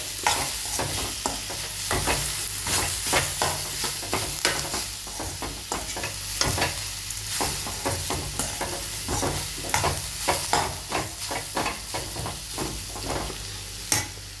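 Cooked jackfruit tossed into a sizzling tempering in a pan and stirred well, a constant hiss of frying with rapid, rhythmic spoon scrapes throughout, close and without speech.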